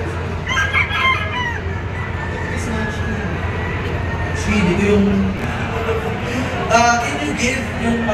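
Gamefowl roosters at a gamefowl expo crow and cluck in repeated bursts from several birds, some near and some farther off, over a busy crowd hum with someone talking throughout.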